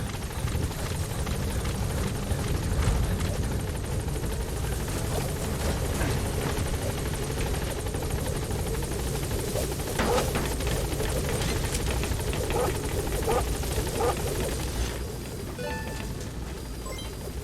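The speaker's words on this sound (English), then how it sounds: "Support helicopter has arrived." A support helicopter in Metal Gear Solid V arrives with a loud, steady rotor roar that fills the scene, dropping slightly near the end.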